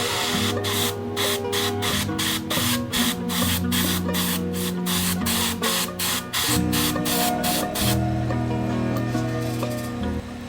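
Rapid rhythmic bursts of airbrush or spray paint as purple speckles go onto a glide bait fishing lure, a fast regular pulsing for about eight seconds over steady music, then tapering off.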